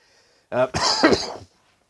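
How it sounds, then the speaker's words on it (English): One close, sharp cough, a short double burst that stands alone against near silence. "coughing on cue."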